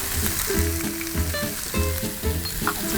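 Onions and garlic sizzling as they go into a pork belly pan, a steady frying hiss with faint stirring and scraping in a near, continuous layer.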